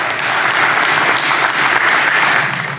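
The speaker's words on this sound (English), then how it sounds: "Round of applause." Audience at a village community workshop gives a full round of applause, dense and loud, continuous clapping for nearly three seconds before tapering slightly.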